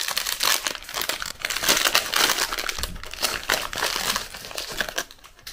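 A green tea packet crinkles and crackles as it is handled, a dense run of close rustling and crumpling noises that continues steadily for several seconds with no talking.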